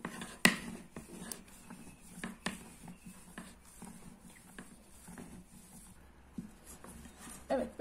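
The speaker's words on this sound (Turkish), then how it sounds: "ıspanaklı hamurumuzu açıyoruz ilk başta" Spinach noodle dough is rolled out by hand, giving quiet, intermittent soft thumps, scrapes and taps at close range in a calm kitchen.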